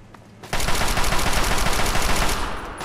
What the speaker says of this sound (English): I'm going to quickly go to my weapons, and I picked up a Chinese assault rifle